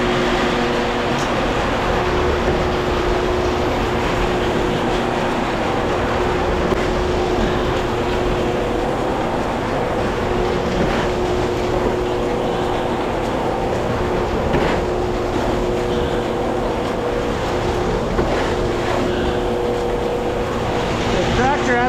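A loud diesel tractor engine drones steadily at idle, a constant heavy rumble with a faint tonal whine running throughout.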